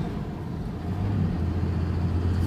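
A 2007 Dodge Ram pickup truck with an inline six-cylinder engine and manual gearbox drives and pulls ahead, giving a steady low engine drone and road rumble from inside the cab that swells slightly partway through, with no voices.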